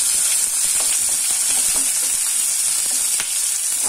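Onions frying in a pan for a simple chicken gravy, a steady loud sizzle with crackles and occasional stirring clicks, close and continuous with no voices.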